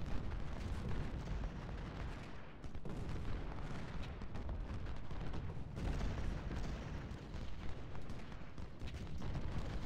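Artillery fire in an Ultimate General: Civil War battle at Cold Harbor, a steady, dense barrage of booms and gunfire rumbling continuously throughout with no talking.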